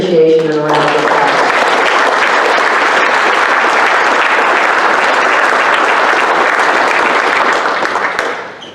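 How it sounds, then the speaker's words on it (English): A speaking voice gives way to a long, loud wash of audience applause at an evening livestock symposium program, dense clapping from a large crowd that holds steady for several seconds before fading. "Please recognize these individuals with appreciation and a round of applause."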